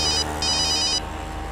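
An incoming call on a phone rings with two bursts of a bright electronic ringtone, loud and close, the second cutting off abruptly, with no voices.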